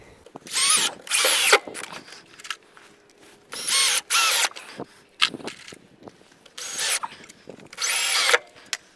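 A power drill drives screws into a board for an aluminum handrail post in short bursts of high whirring, about six runs with brief pauses between, close up, with light handling noise in the gaps.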